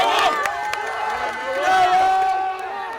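A football crowd cheers loudly with high, excited shouts and a brief swell of roaring, while voices call out over it.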